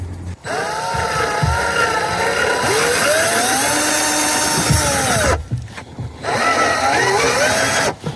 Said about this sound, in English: I will grab the drill with my right hand and proceed to try to get these holes drilled out with limited space